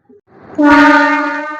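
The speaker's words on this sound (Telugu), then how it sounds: "అదిగోండి ట్రైన్ ఎళ్తుంది" A coal train near Araku sounds one loud, sustained horn blast up close, rising in quickly and holding steady before easing slightly, with a faint brief noise just before it.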